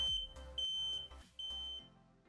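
A smoke alarm going off with repeated piercing high-pitched beeps, several pulses in a row, sounding over a busy backdrop of music and low rumbling.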